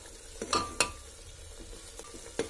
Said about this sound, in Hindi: हम मेरे टमाटर भुनने वाले हैं।